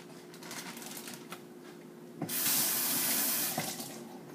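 A cucumber is rinsed under a running kitchen tap: after quiet rustling handling, the water bursts on in a loud steady gush for about a second, then cuts off.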